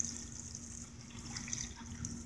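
Water is poured out of a heavy, full container in a faint, steady rushing trickle that runs without a break for a couple of seconds.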